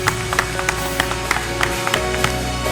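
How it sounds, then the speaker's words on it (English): Audience applause at a hair show: steady crowd clapping, fairly loud and continuous, with a few sharper individual claps poking through over a constant background hum. "Please give him a big round of applause."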